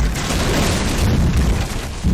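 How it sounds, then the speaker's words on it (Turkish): Dense, continuous rumbling booms from explosions during a firefight in Firefighting Simulator - The Squad, a loud, steady roar with crackling bursts lasting throughout, no talk over it. "Evet patlamalar oluyor"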